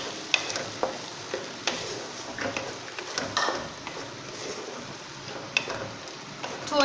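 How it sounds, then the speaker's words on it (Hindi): Boiled chickpeas tipped into a pan of hot oil with yogurt masala for chana pulao give a steady close sizzle, with intermittent scraping clicks as the spoon stirs the mix. "अब इसमें मैं छोले डालूँगी।"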